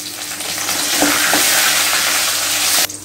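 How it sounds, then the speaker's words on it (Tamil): Curry leaves and three dried chillies hit hot oil with a loud, continuous close sizzle that cuts off sharply near the end. "கறிவேப்பிலையை சேர்த்துருவோம்"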